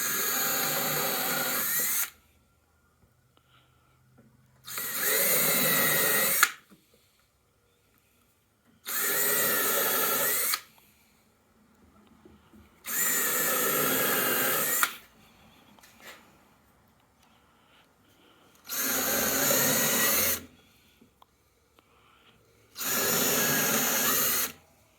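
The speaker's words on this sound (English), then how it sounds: "take your drill with your either 16-inch bit or countersink and just make yourself some pilot holes" A power drill bores pilot holes in wood for target stands, six separate bursts of loud, close whirring, each lasting a couple of seconds, with quiet gaps between them.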